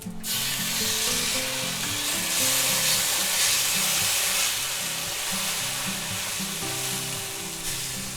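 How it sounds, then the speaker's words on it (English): Minced garlic sizzles in a hot pan on a lowered burner, a steady loud frying hiss that runs unbroken throughout with no talking. "let's take a teaspoon of minced garlic and we'll put that in there"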